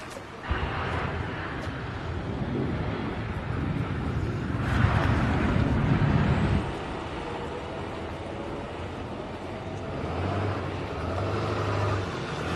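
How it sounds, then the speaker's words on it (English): Heavy trucks rumble past close by during a wildfire in California, a steady low roar that swells and fades over several seconds, with wind buffeting the microphone. "Sorry, I've got trucks going past me, Frank."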